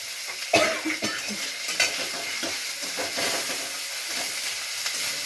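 Ginger garlic paste sizzles in a wok, stirred and fried, with a loud scrape and clink of a spatula near the start, then a few lighter knocks over a steady, close frying hiss.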